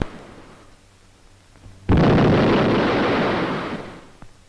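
An artillery gun on a WWII sea fort fires one heavy blast that bursts in suddenly and rolls on as a long, loud rumble fading over a few seconds, with no voices.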